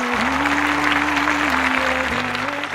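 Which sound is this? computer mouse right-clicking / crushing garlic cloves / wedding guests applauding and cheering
wedding guests applauding and cheering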